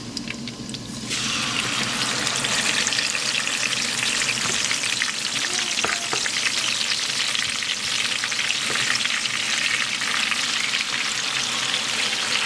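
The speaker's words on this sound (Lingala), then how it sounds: "tokoki kokalinga mbisi na biso" Fish pieces frying in hot oil, a loud steady sizzle starting with a burst as they go in and continuing evenly, with occasional light stirring clicks and no talking.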